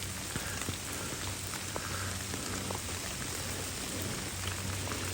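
Steady nighttime rain pattering on surfaces, a dense continuous hiss with scattered drips, no voices.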